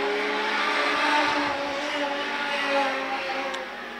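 Legend race cars drone through turns three and four on a final lap, a steady engine roar with layered whining tones that swells slightly and then fades as the pack moves away.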